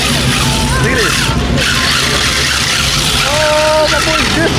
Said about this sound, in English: that boy's drifting